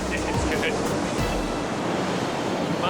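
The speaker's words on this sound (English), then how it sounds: "Amazing that amount of water trying to squeeze through that really narrow gap." A large volume of water rushes steadily through a narrow gorge in the Cook Islands, a loud, continuous roar with wind buffeting the microphone and faint voices beneath it.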